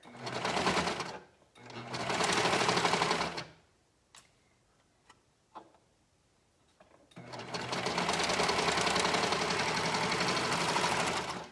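A serger runs in two loud, fast-stitching bursts, pauses with a few faint clicks and handling sounds, then hums along steadily again.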